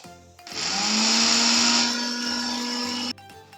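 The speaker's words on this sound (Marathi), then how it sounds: "हे भाजीचे काढलेले देठ आता हे मी मिक्सरवरून वाटून आणते आहे." A kitchen mixer grinder grinds trimmed vegetable stems in one loud, steady, high whirring run of about two and a half seconds that starts abruptly and cuts off sharply, with quiet room sound before and after.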